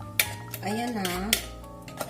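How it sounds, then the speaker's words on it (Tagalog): A utensil stirs pancake batter of milk and flour in a bowl, scraping and clinking against the sides in a few quick strokes while someone talks over it. "Halo ko na siya ng mabuti."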